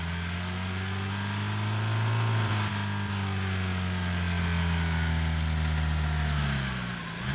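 Car engine running in the Drive Beyond Horizons driving game, a steady mid-pitched hum with a faint rise and fall in revs that dips near the end, heard with no voices.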